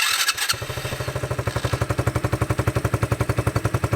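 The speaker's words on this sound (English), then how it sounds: "If I reach down here and flip the choke up and give that another try" Coleman AT125EX youth ATV engine cranking briefly, then catching with the choke on and settling into a fast, even, close-up chugging idle.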